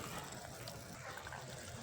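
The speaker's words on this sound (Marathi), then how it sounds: "त्यामध्ये ना हे खारं पाणी टाकू थोडंसं" A little salt water is poured into masala cooking over a wood-fired clay stove, giving a faint, brief, steady gushing pour with no other sound.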